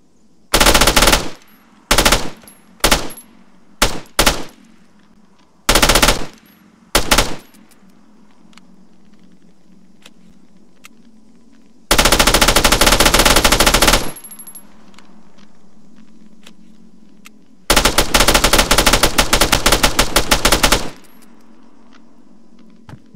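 Uzi submachine gun in a video game mod, 9mm with a 30-round magazine at about 1,100 rounds per minute, fires loud short bursts, then two long sustained bursts separated by quiet gaps, with no talking.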